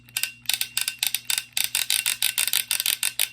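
A Studio Series Transformers toy's plastic waist ratchet joint clicks in rapid bursts of sharp ticks, repeated steadily and close up for several seconds with no talking.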